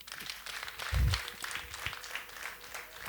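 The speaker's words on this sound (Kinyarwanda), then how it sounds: "nongere nsabe umuryango mugari bongere babakirize amashyi n'impundu" An audience welcomes guests at a gathering with applause, a dense wash of many hands clapping that swells briefly around the middle and carries on steadily throughout.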